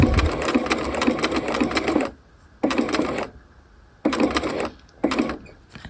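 Sewing machine stitching a bound buttonhole on a half-scale jacket, running in three to four loud, steady bursts of rapid stitching separated by short pauses.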